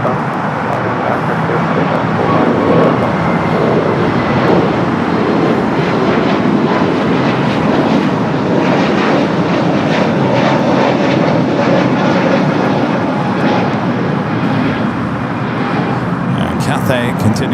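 Frontier Airbus A321neo jet spooling up for a full-length takeoff roll, its steady, loud engine roar filling the whole stretch with a broad, unbroken rumble and whine. A voice is also picked up faintly.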